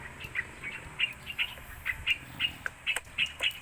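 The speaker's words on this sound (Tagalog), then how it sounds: "may background pa na ibon" Birds calling in the background during outdoor cooking, repeated short squawking chirps at an irregular quick rhythm, moderately near, over a faint low rumble.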